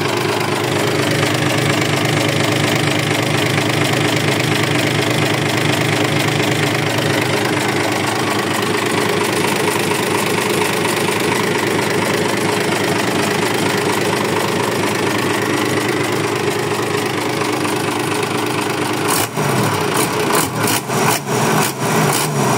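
A Mitsubishi 6D14 diesel engine runs steadily and loudly on test for the whole stretch, with a dense, continuous mechanical roar; a series of sharp knocks or clanks breaks in near the end.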